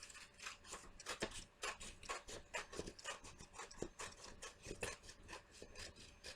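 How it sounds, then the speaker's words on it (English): Quiet, rhythmic rasping strokes as the edges of a craft plate are trimmed, a steady series of short scraping pulses close by with no talking. "I'm going to trim these around, trim this around"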